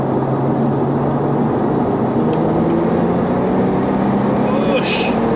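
A 480bhp Porsche 911 Turbo (997 Gen 1.5) accelerates hard, its engine tone climbing slowly under a loud, steady roar of wind and road noise heard from inside the car.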